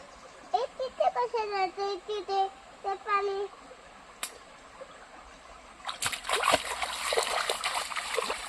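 River water splashes close by in a burst of bright, broadband noise during the second half. A voice talks in the first part and the water then continues loud and irregular.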